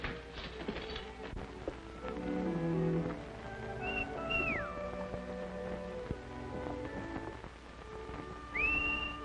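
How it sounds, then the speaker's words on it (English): Short whistled notes sweep upward twice, faint and somewhat distant, over a quiet background with a soft hiss and scattered clatter. "I could have sworn I recognized that whistle."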